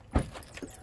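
Keys jangle briefly as a car is unlocked and opened, a short metallic rattle with a faint click after, close and alone.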